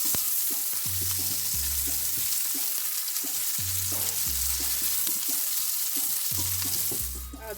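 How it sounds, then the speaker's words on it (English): Sweet onion fries in hot oil with a continuous sizzle, while a spoon stirs and scrapes the pan in regular low knocks, over and over, until the onion browns. "And I will keep stir frying till it is brown."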